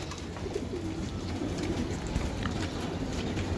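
A pair of racing pigeons coo softly, low throaty murmurs that repeat over a constant background hum, close by, with no talking.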